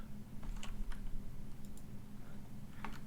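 Someone types on a computer keyboard, producing a few quiet, scattered keystroke clicks in short bursts over a low steady background hum.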